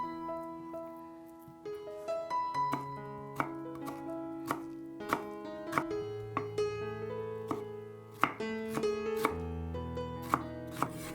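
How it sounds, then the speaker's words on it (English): A knife chops bamboo shoots into small cubes on a cutting board, a series of crisp, irregular close knocks under soft background music. "Cut 70 grams of bamboo chut into small cubes."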